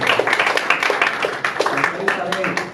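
An audience at a theatre awards ceremony claps for an honoree, a run of quick, close claps underneath someone speaking loudly over them.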